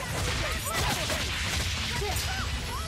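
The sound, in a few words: explosion attack in the video game Tales of Berseria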